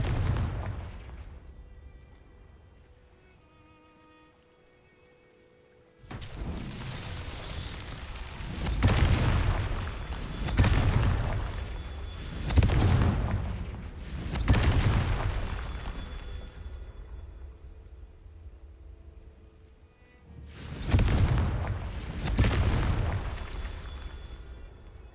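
Repeated Confringo fire-spell explosions in the Hogwarts Legacy video game, a series of loud booming blasts with rumbling tails after a quieter opening stretch, with a pause before a final pair of bursts.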